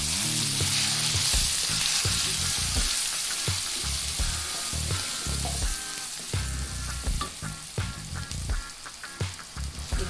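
A ground paste of shallots, garlic, turmeric, ginger, candlenut and chilies sautés in hot oil, giving a steady loud sizzle and crackle while a utensil stirs and scrapes through it in irregular strokes.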